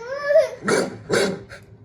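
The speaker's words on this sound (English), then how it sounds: "A man heard a dog barking in his yard at midnight" A dog barks in a yard at midnight: two loud, close, rough barks follow a short whining, voice-like tone, with a fainter third yelp at the end.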